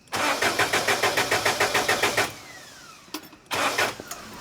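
A cheap forklift engine is cranked with rapid rhythmic starter chugs for about two seconds, then falls quiet before a short burst of cranking or revving returns; loud and close, with no talk.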